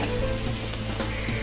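Chopped onion softening in hot oil in a pan while cooking a monsoon kantoli and val bean bhaji, giving a steady close sizzle and crackle throughout with no talking.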